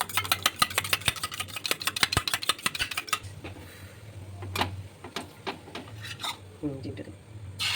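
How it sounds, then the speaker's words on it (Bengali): A cracked egg with a pinch of salt is beaten in a bowl, starting with a rapid, rhythmic run of sharp clinks against the bowl, then slowing to scattered, heavier taps and scrapes, close up. "এদিকে একটা ডিম ফাটিয়ে নিয়েছি, এর মধ্যে সামান্য লবণ দেবো। লবণ দিয়ে ফেটিয়ে নেব।"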